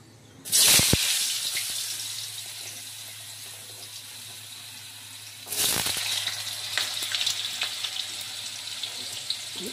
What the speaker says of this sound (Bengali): কড়াইতে তেজপাতা আর লবঙ্গ দিয়ে দিলাম।